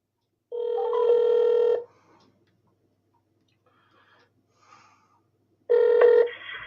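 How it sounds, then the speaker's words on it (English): Telephone ringback tone heard while placing a call to a show guest: two separate electronic ring bursts, each about a second long, separated by a few seconds of near silence, fairly loud and close with no talk. "So, all right, I'm going to give this gentleman a call."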